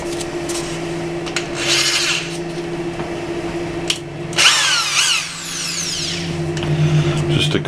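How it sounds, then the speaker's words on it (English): Power drill driving deck screws into a wooden workpiece to hold an acrylic Christmas tree part in place: loud whirring bursts that rise in pitch as each screw bites, with short gaps between runs. "Just a couple deck screws hold it in place just fine."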